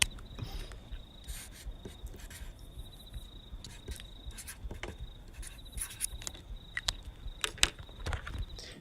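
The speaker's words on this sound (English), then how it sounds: "the nature the grasshopper sound, really, to fully fully extend the awkwardness." Crickets chirp in a steady, shrill pulse through a quiet outdoor night ambience, a continuous high trill with soft rustles and scattered faint clicks, played as an awkward-silence effect.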